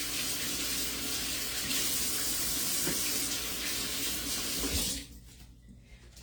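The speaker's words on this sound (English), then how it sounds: "I gotta rinse my hands again." Hands rinsed under a running kitchen tap during cooking, a steady close rush of water that cuts off sharply near the end, leaving quiet, no talking.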